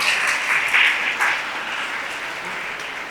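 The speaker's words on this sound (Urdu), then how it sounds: "آپ کی بھرپور تالیوں میں تشریف لاتے ہیں" Sustained audience applause in an auditorium at an Iqbal Day celebration, welcoming a speaker to the stage; steady, dense clapping throughout with no talk.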